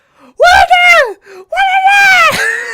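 A voice imitates the high-pitched screaming of a movie character from Puppet Master, two loud, wavering shrieks separated by a brief pause.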